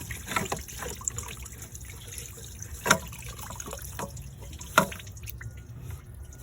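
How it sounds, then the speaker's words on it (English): Coolant drains from a Jeep Chrysler thermostat housing during a thermostat swap, a soft steady trickle with a couple of sharper drips or splashes standing out. "there's gonna be a lot of fluid coolant that's gonna leave from there"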